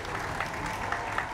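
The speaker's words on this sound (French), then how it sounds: "Je pense que ça s'applaudit." Studio audience on a French radio or TV show gives brief, even applause, a dense wash of clapping with no talk over it.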